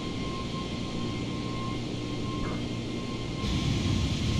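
A free add-on airliner in Microsoft Flight Simulator 2020 on a Xi'an to Shanghai flight gives a steady, loud engine drone with a constant whine. The roar swells slightly near the end, and no one speaks.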